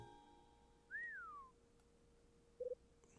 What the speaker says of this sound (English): Somebody's whistling.